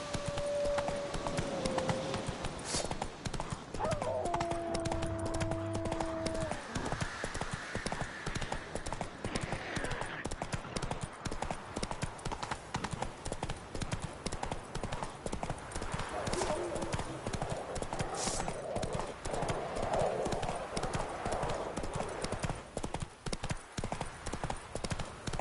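Roach, a horse in The Witcher 3, gallops with continuous rhythmic hoofbeats, close and steady, with a brief whinny early on and game sounds and faint voices mixed in.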